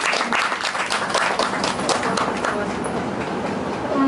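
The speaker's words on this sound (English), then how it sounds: "All right, please give a big round of applause to Kina." An audience gives a speaker a round of applause with dense, loud, continuous clapping from many hands, mixed with some voices throughout.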